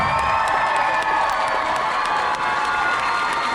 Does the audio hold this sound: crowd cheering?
yes